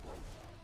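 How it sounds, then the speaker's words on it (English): An Ankylosaurus tail in the game ARK Survival makes a brief, faint dog-like bark, a single short woof that fades quickly. "His tail sounded like an actual dog."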